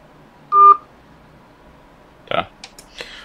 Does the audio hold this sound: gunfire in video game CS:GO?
no